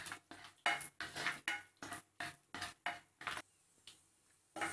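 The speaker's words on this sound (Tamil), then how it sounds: "முந்திரி திராட்சைலாம் நல்லா வறுபட்டுருச்சு." Cashews and raisins roast in ghee as a spoon stirs them in a metal pan, giving a quick series of about ten sharp scraping clinks in a regular rhythm, close and fairly quiet, with a short pause before a final stroke.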